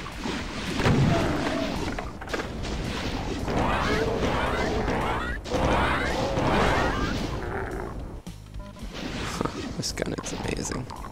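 Weapon fire in Doom 2 on PC, loud rapid crashing blasts and booms repeating densely over several seconds, with a voice talking over parts of it.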